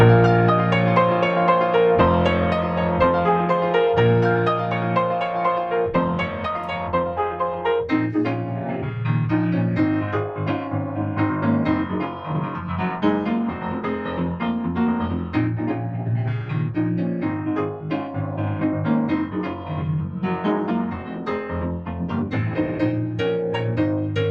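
Solo piano plays a flowing melody with rich chords for about twenty-four seconds, clear and close, with no talking.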